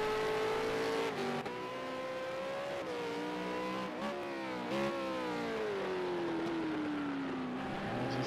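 A V8 Supercar engine screams steadily through gear changes on a timed qualifying lap at Circuit of the Americas, loud and close with its pitch rising and falling throughout.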